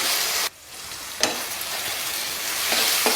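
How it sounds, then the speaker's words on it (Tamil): Tomatoes and onions sauté in a pan with a continuous close sizzle. The sizzle briefly drops off, then returns, with occasional scraping stirs and no talking. "பாருங்கம்மா, தக்காளி சேர்த்து இந்த அளவுக்கு நல்லா மசிய வதக்கிடுங்க."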